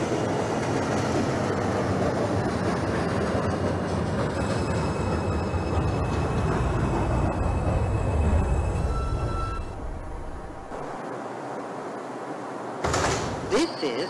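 A Brooklyn-bound 2 express subway train in the OpenBVE simulator rumbles steadily along the track, loud and continuous, then quiets briefly before a sharp burst near the end, with no talking over it.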